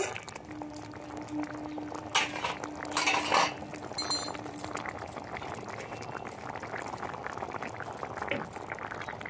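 Vegetable dal boils in a pot for a Bengali-style veg dal, a steady bubbling simmer with a few light clinks partway through and no talking.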